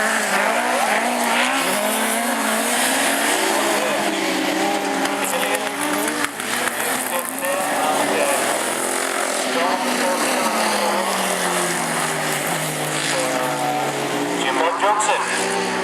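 Autograss race cars, including a small Citroen C1, roar around a dirt track at a bonfire-night meeting, engines revving and droning continuously with a commentator talking throughout.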